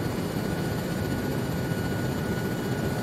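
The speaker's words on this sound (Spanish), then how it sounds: "Helicóptero en el aire a nuestras 11:10." Helicopter flying through the air during a Vietnam-era military simulation game mission, a steady, continuous rotor and engine drone that holds an even level throughout with no speech.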